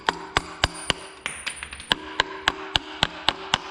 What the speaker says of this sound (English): You take your hammer, this is a Craftsman hammer.